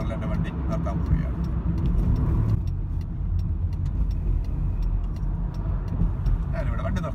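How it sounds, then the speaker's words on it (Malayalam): A car pulls onto the hard shoulder of an Irish motorway, with a steady, close road and engine rumble and a few faint ticking clicks running throughout. "സോ ഞാനിവിടെ ഹാർഡ് ഷോൾഡറിൽ എൻ്റെ വണ്ടി നിർത്താൻ പോവുകയാണ്."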